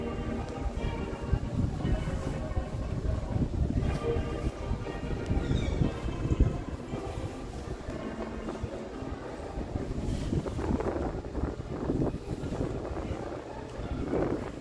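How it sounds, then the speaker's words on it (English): Walt Disney World monorail at a Magic Kingdom station, a continuous low rumble and whir of the train pulling in, mixed with wind buffeting the microphone and faint crowd noise around it. "Oh, the monorail just pulled up."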